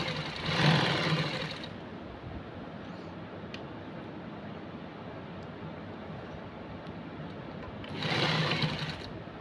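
A sewing machine stitches the shoulder seams of a suit in two short, close bursts of rapid mechanical whirring at the start and end. Quieter room noise fills the gap between them, with no voices.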